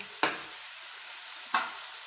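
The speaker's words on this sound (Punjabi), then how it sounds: "ਹੁਣ ਇਹਨਾਂ ਨੂੰ ਚੰਗੀ ਤਰ੍ਹਾਂ ਮਿਕਸ ਕਰ ਦਿਆਂਗੇ" Boiled potatoes and rice are stirred into frying masala in a pan: two distinct spatula scrapes over a soft, constant sizzle.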